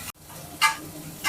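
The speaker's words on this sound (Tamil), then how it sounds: "பச்சை வாசனை போகிற வரைக்கும் நல்லா வதங்கட்டும்." Ginger garlic paste sautéing in a pan for a tamarind-leaf chicken gravy gives a soft, steady sizzle with a couple of brief louder bursts of frying; no one speaks.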